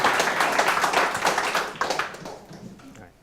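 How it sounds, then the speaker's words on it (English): A small audience claps for the speaker David at a talk on mix networks, a moderate patter of hands that thins out and fades over about three seconds. "So let's give a round of applause to David"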